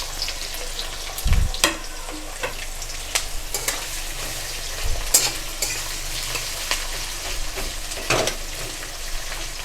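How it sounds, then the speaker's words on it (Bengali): Chopped onions frying in hot oil, a steady loud sizzle with repeated scrapes and knocks of a spatula stirring against the pan. "এবার আমি কেটে রাখা পেঁয়াজগুলো দিয়ে দিচ্ছি। এটাকে একটু লাল করে ভাজতে হবে।"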